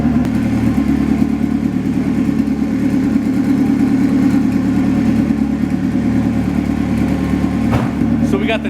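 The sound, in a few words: turbo drag car engine running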